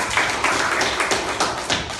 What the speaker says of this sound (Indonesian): Ya, beri tepuk tangan buat kelompok dua.